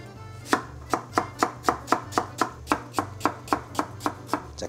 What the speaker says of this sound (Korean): 배는 채 썰 거기 때문에 얇게 썰어 준비해 주세요